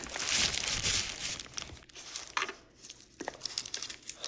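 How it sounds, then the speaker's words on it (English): Crinkling and crackling of plastic wrapping being pulled off a new FIIO K13 R2R audio unit, a busy close rustle for the first two seconds, then sparser crinkles and handling noises. "Lovely wrapped in plastic."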